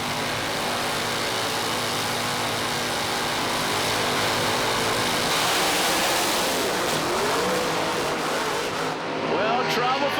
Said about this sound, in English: Up come the revs.